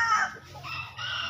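A gamecock rooster crows once nearby, a strained, drawn-out call with no talking over it.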